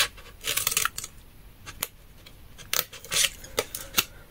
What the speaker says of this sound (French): Et je recoupe le long des 5 mm, donc de mon rectangle, ici, sur le pli également.